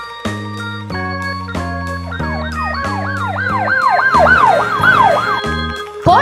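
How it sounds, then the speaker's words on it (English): A police car siren wails in repeated rising and falling sweeps, loud and close, over a bouncy children's music backing. "P police car."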